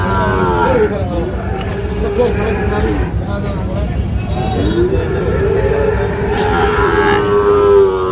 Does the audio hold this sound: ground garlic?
no